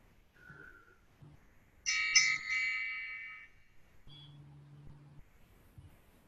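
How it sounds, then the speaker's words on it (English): A small hand bell is rung once, a bright ringing tone that swells and then fades away over roughly two seconds in an otherwise quiet room, followed by a softer low hum. "I'm just going to ring my bell just to settle your words"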